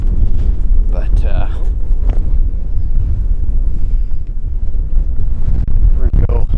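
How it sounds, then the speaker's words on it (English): Strong wind on a Montana whitetail hunt buffets the microphone with loud, continuous rumbling gusts, while a voice talks briefly underneath. "It's super windy today"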